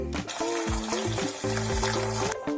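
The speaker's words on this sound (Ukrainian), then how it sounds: "м'ясо перекладаю до чаші мультиварки і заливаю водою" Water pours into a multicooker bowl over pork pieces for jellied pork trotters, a close, continuous splashing and trickling stream with rising, bubbling tones as the bowl fills.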